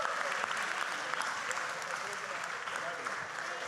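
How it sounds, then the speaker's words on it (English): A round of applause from a symposium audience, a steady wash of many hands clapping heard from some distance, fairly faint but continuous throughout. "Give the statues a round of applause."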